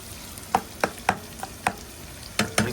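Onions fry in a pan for an Agri-style liver (kaleji) masala cooked outdoors by a creek. A steady sizzle runs underneath, broken by about eight sharp, evenly spaced spatula scrapes and knocks close by, with no talk.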